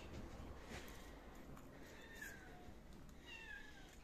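A cat meows in a rural barn, a few faint rising calls over steady background noise.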